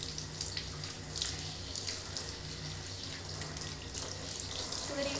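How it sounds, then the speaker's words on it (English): Tap water runs steadily and hisses, rinsing a small dog during a bath in a sink, a continuous close splash with soft shifting spatter. "Rinse her face is definitely the hardest part because I don't want to get water all in her eyes."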